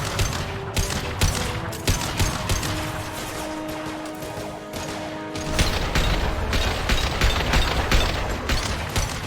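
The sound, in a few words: concussive shot firing in Mass Effect 2 video game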